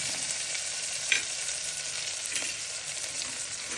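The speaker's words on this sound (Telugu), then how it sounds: "అలాగే ఉల్లిపాయలు పచ్చిమిరపకాయలు వేసాను. మంచిగా ఫ్రై చేద్దామండి." Onions and green chillies fry in a pan for a quinoa meal, giving a steady close sizzle with a faint spatula scrape or two and no talking.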